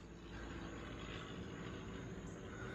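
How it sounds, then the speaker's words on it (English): A low-flying airplane drones steadily overhead in North Carolina, a continuous broadband engine roar holding at even loudness for the whole stretch with no talking. "And I hear a plane. That plane's flying low too"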